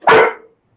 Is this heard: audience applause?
no